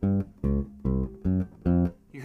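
Five short, low bass guitar notes are plucked in a steady pulse, each cut off quickly so clear silent gaps separate them.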